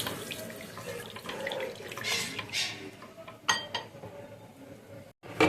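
Water runs from a tap into a cooking pot to make a thin fish and potato curry, a steady close splashing flow with a few sharper clinks near the end.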